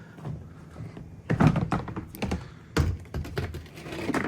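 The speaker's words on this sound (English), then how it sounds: "Let's open up this bin." Someone opens a plastic storage bin holding a fireworks stash. It gives a string of hollow thunks, clicks and rattles from the lid and contents, close and uneven, with no talking.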